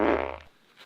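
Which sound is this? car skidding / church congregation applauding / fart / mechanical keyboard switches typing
fart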